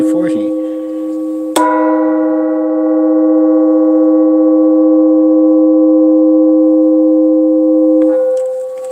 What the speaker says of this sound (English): Gong G40.